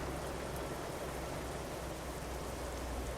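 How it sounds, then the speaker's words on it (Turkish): Steady, dense rain hissing continuously, a broad even wash of falling water with no pauses. "Yağmur başladı."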